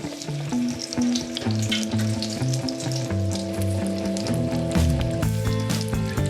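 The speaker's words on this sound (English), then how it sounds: "now, I'll lay this guy right in the deep fryer" Wild boar Scotch eggs, coated in flour, egg and panko, deep frying in a fryer at 375°F, giving a steady, loud bubbling sizzle throughout with faint stirring clatter.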